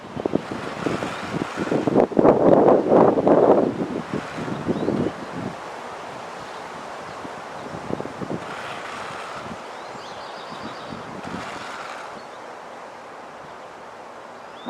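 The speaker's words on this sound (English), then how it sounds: "Here comes the wind." Gusty outdoor wind buffets the microphone during bonsai pruning of ash leaf spirea and barberry: a strong, rushing blast for the first five seconds, then quieter, steadier bluster with further brief gusts.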